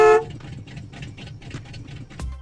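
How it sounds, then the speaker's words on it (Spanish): A 1:18 scale Autoworld Dodge Charger Christine model sounds its car horn: a short, loud electronic honk at the start, then quiet mechanical clicking and rattling handling noise with a brief click near the end. "con el que Dennis toca la bocina en más de una ocasión en el filme"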